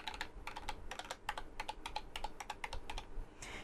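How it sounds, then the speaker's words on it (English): Keys pressed on a Belkin Nostromo SpeedPad N52 gaming keypad give rapid, crisp clicks in a fast, uneven typing rhythm. The sound is close and continuous, with no talking. "they feel like normal gaming keyboard keys. They're very responsive, and they do have a nice sound as well."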